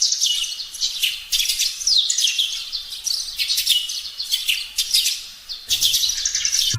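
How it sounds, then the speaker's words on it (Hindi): Birds chirp and tweet in quick, high, repeated bursts with short pauses between them, close and clear against a quiet background with no talking. "चे से चिड़िया"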